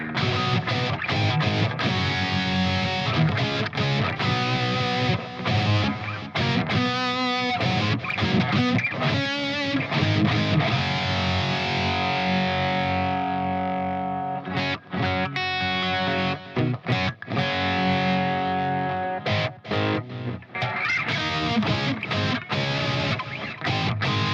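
Electric guitar played continuously with a repeating, echoing digital delay effect, notes smearing into one another, loud and dense with no speech.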